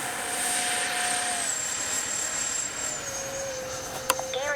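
Freewing F-14A Twin 64 Tomcat RC jet with twin 64 mm ducted fans flying overhead: a steady, loud whining rush whose pitch slowly drops and shifts as it passes, with a sharp click near the end.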